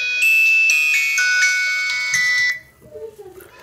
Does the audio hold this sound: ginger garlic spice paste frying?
no